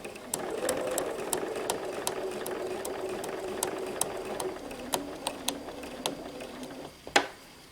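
A sewing machine stitches binding onto a quilt, a steady whirring run broken by regular sharp ticks of the needle, stopping near the end with one louder clack.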